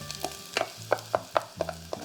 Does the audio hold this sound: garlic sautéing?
yes